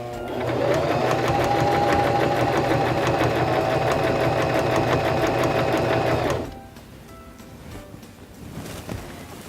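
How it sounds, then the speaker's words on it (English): A Singer sewing machine stitches fabric in a fast, even mechanical whirr, close and loud, running for about six seconds before stopping to quieter handling noises. "Now we can press down on our foot control and sew."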